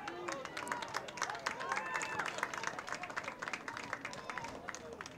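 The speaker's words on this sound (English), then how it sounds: "Got a big Wellesley crowd here today." A crowd at a high school boys' soccer playoff game claps and cheers in scattered bursts over a steady murmur of the stands, with a voice talking through it.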